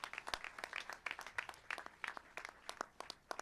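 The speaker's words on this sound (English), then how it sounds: "you want to clap for him, don't you? Let's clap for him." Audience at a startup accelerator day event clapping in a quick, steady patter of distinct handclaps from a modest group, fairly close and alone without talk.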